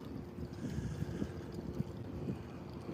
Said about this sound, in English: the wind is cutting right now